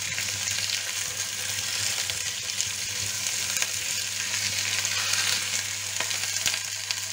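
Turkey osso buco meat searing in a pan, a steady, loud broadband sizzle with small crackles, while the pieces are turned.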